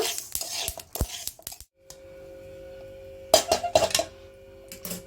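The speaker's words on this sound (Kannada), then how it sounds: "ಈಗ ಇದನ್ನ ಒಂದು ಪ್ಲೇಟಿಗೆ ಹಾಕೊಳ್ಳೋಣ" Roasted flax seeds transferred from a pan onto a plate: quick metallic clinks and scrapes in short bursts, a quiet pause, then another cluster of clattering utensil and dish sounds close by.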